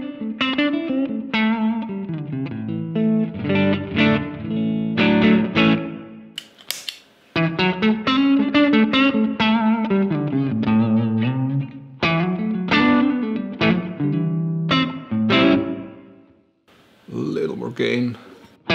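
A Telecaster electric guitar played clean through a Great Eastern FX Design-A-Drive pedal, with a run of plucked notes and chords in phrases separated by short pauses and a brief scrape near the end.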